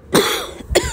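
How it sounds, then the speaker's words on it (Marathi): Two sharp, close coughs come in quick succession with a short pause between them, loud and alone without speech. "अरे बापरे, खोकला पण येतोय"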